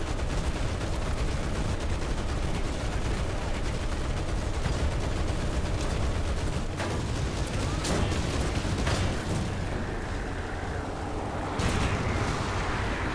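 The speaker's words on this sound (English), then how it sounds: "somebody else shooting at me" Tank gunfire in the War Thunder game with an M4A3 Sherman 105 medium tank, dense continuous rumbling battle noise with repeated shots and booms layered over it, loud and unbroken throughout.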